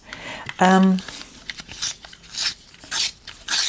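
A short burst of scraping, grinding rasps from a pencil being sharpened, repeated in quick strokes after a brief spoken word.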